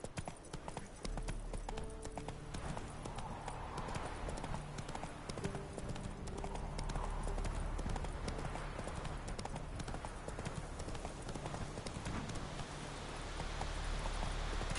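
Roach the horse gallops in The Witcher 3 video game, producing rapid, continuous hoof clip-clops that carry steadily through the whole stretch under a dense background of game sound.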